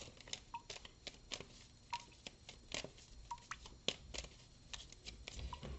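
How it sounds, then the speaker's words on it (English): Tarot cards being shuffled during a reading, a run of soft papery riffles and flicks repeating unevenly, close and quiet, with a few brief spoken words. "Shuffle and a shuffle."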